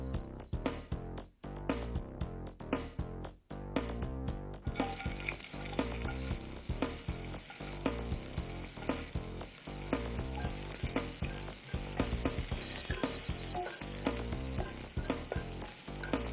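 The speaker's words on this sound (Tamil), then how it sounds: "எண்ணெய் சூடானதும் நம்ம வெங்காயம் போட்டு வதக்குறோம்" Onions sautéing in hot oil for vengaya kuzhi paniyaram, a dense, continuous sizzle and crackle that stays loud throughout, with no talking.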